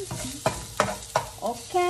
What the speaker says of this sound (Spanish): Ok, ya la cebolla está sofrita.